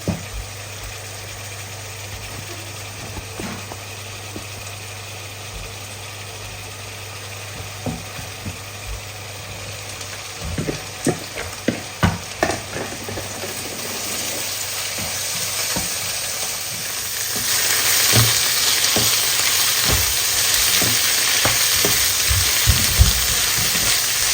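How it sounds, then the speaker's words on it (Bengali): Hilsa fish masala spice paste frying in a pan, with a steady sizzle that grows louder and brighter toward the end, broken by scattered clicks and scrapes of stirring; no voices. "এখানে হচ্ছে ইলিশের মশলা কষাচ্ছি"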